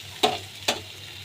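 Potatoes frying in oil with spice paste for a koi fish curry give two sharp stirring scrapes over a low, steady sizzle.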